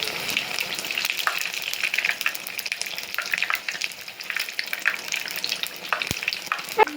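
Pineapple jalebi frying in hot oil crackles and bubbles steadily, close and fairly loud, while the pieces are turned over to the other side. A sharp clink comes near the end.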